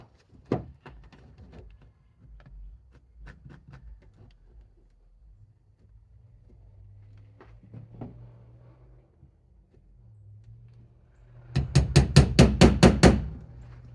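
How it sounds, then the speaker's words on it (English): Sparse light taps and thuds, then a quick run of about eight sharp strikes from a small hammer close up, driving small nails into a beehive frame near the end. "Little hammer works good."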